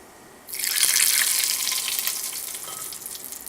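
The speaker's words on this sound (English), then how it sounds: "Ideally you would have a bit more of a sizzle than that" Hot oil with cumin seeds is poured over cooked masoor dal and breaks into a bright, hissing sizzle. It starts suddenly, stays loud and close for a few seconds, then slowly softens. No one speaks.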